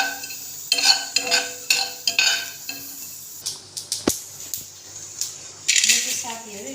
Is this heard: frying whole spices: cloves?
yes